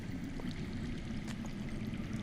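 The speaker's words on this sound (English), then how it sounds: "I hear water. From underground." Underground water flowing in a Game of Thrones video game, a steady low rushing stream heard faintly throughout with no talk over it.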